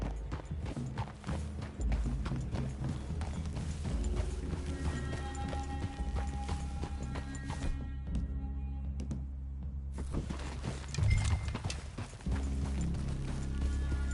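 Horses clip-clop steadily in Red Dead Redemption 2, their hooves a close, repeated rhythm over game music and ambience, with a short quieter stretch midway before the hoofbeats return.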